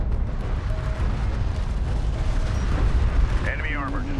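A light attack vehicle blows up in the Homeworld: Deserts of Kharak desert battle, a heavy, rumbling blast that keeps roaring through ongoing combat noise while radio-style voice alerts play over it.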